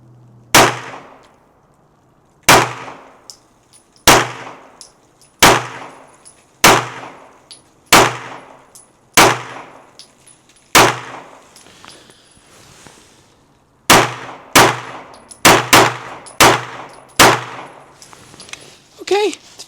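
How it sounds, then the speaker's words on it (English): A Daniel Defense H9 pistol fired at a range, about fourteen sharp, loud shots, evenly spaced at first and then coming faster toward the end, each followed by a brief ringing echo, with no talking. "But here we go for some first shots with it."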